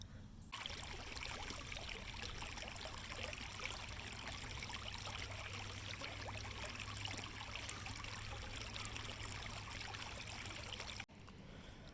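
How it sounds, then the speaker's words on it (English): Water pours steadily over a reservoir overflow, a continuous broadband rushing and splashing that holds at an even level for roughly eleven seconds before stopping abruptly. "This is the overflow. So if the water gets too high, it pours over the top there."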